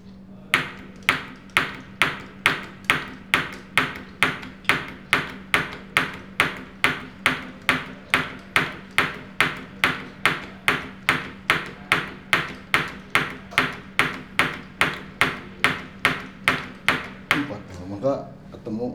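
A Casagrande cup repeatedly drops and taps a soil sample in a laboratory liquid limit test, producing about thirty-five sharp, evenly spaced metallic clicks at a steady fast rhythm with a low hum beneath.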